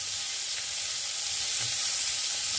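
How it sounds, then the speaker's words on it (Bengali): Sliced onions frying in a pan with cumin seeds and dried red chillies, giving a steady, close, hissing sizzle that continues evenly with no talking over it. "পেঁয়াজগুলো ভেজে নেব।"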